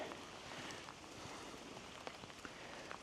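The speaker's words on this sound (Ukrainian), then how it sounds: "А дощ іде, іде і йде." Rain falls steadily during a fishing trip, with someone standing waist-deep in water, a faint, soft hiss of patter with occasional sharper drops and no voices.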